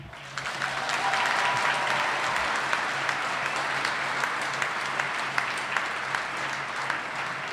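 A large audience applauds at a winter college commencement ceremony in Albany, NY. Dense, sustained clapping builds in the first second, then holds steady at a moderate distance to the end.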